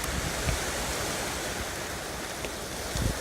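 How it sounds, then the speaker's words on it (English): Gusty wind blowing outdoors near a lake during a moose hunt, a steady broad rushing roar across the whole stretch with a couple of stronger buffets, no talk. "Don't mind the wind."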